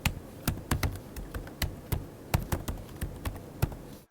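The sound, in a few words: typing on a laptop's membrane keyboard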